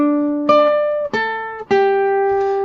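Three clear plucked electric guitar notes of a riff, played on the 4th and 2nd strings, ring out one after another, each sustaining into the next, played cleanly and close.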